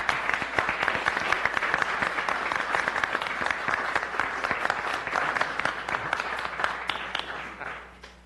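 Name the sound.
round of applause at a committee meeting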